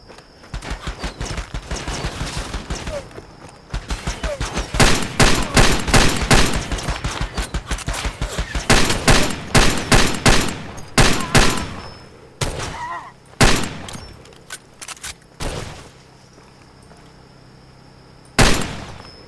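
Automatic weapon fire in Far Cry 2 sounds in loud, rapid bursts, then breaks into scattered single shots with gaps between them. A last isolated shot follows after a pause, once the ammunition is nearly gone.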